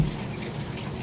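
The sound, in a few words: shower water running over a scarlet macaw parrot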